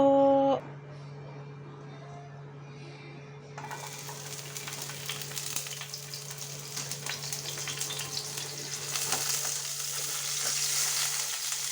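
Bitter gourd (ampalaya) with egg frying in a pan, a steady close sizzle that grows louder and denser after a few seconds of quiet hum, continuing alone without talk.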